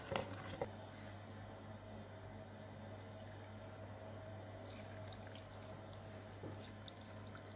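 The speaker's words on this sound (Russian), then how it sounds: "И долью водой." Water poured into a pot of lean Armenian tolma, a steady quiet trickle and splash after a couple of brief knocks at the start, heard close and alone.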